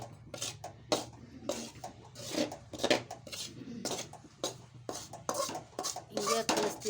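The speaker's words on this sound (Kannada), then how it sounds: "ಒಟ್ಟು ಪುಟಾಣಿ ಹಿಟ್ಟು, ಎಣ್ಣೆ, ಕುಸುಬೆ ಎಣ್ಣೆ ಎರಡೂ ಮಿಕ್ಸ್ ಆಗ್ಬೇಕಂತ" A spoon clinks and scrapes against a bowl while gram flour is mixed with oil and safflower oil for a sweet barfi. The strokes are close, repeated and uneven, with no talking.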